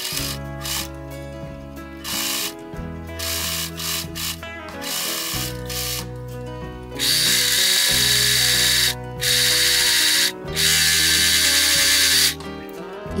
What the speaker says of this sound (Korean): 소매 시접도 외솔로 오버로크해서 마무리해주세요.